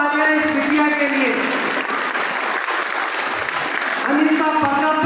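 An audience at a memorial award ceremony in Sujangarh breaks into sustained, dense applause that stays fairly even throughout, while a speaker's voice is heard briefly at the start and again near the end.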